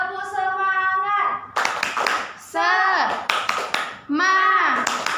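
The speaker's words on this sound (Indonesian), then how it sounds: "1, 2, 3. Tepuk semangat." Children in a primary school classroom chant in unison while clapping a rhythmic 'tepuk semangat' routine, with bursts of sharp hand claps between loud sung phrases, all close and lively.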